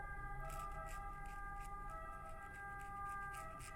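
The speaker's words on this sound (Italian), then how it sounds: "Però l'ambulanza si è fatta sentire." Ambulance siren wailing in a repeating two-tone pattern, faint and somewhat distant, heard alone without talk as it passes.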